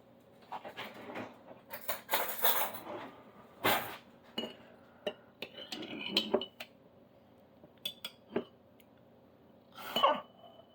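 A peeled-ready boiled egg is shaken hard inside a lidded container, giving bursts of clattering, clinking knocks against the walls in irregular rhythm, close and fairly loud, with quiet gaps between shakes.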